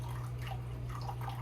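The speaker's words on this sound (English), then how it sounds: "If you can hear the trickle, and I'm moving it with my non-stick whisk." Beef broth trickles into a soup pot with vegetables while a non-stick whisk stirs, a soft continuous liquid pour with a low steady hum beneath.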